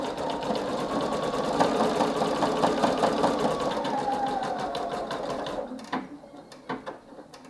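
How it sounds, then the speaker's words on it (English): Singer EM9305 embroidery sewing machine stitching, its needle punching through existing embroidery in a rapid, steady mechanical patter that runs for several seconds before slowing into a few separate clicks, close and alone. "that noise you can hear is just the needle punching through embroidery that's already been done"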